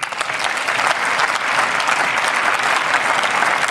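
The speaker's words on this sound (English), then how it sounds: "You deserve a round of applause for that." Steady, dense applause from a small crowd, loud and continuous throughout with no gaps, clapping spread evenly with no voices over it.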